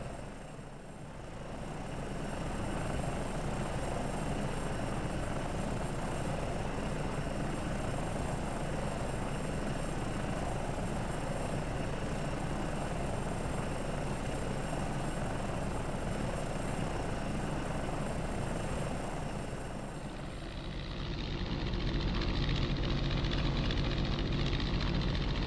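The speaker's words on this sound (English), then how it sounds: "we are hopping into what I think is one of the coolest home-built aircraft in history, the Rutan Long Easy, and we're going to do some aerobatics" A Rutan Long-EZ homebuilt aircraft engine drones steadily in the X-Plane 11 flight simulator during a virtual Oshkosh air show, a loud continuous broadband roar that shifts in tone near the end.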